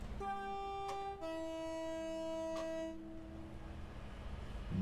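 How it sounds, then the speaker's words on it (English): An electric Class 390 Pendolino train horn in Train Sim World 5, using a modded sound set, gives two sustained two-tone blasts, loud and close, then cuts off to a quiet rumble. "I want to give a quick horn test to let you guys know that this is a new sound mod I'm using for the Class"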